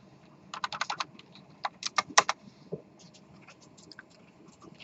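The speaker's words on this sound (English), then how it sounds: "I don't feel like typing the word population over and over and over" Bursts of clicky typing on a computer keyboard during a lecture on data types, with irregular clusters of quick keystrokes and short pauses between them, close and fairly quiet, with no talk.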